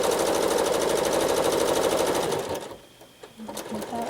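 A sewing machine running fast and steady while travel stitching in free motion quilting, a close mechanical chatter that stops partway through, leaving soft handling noises.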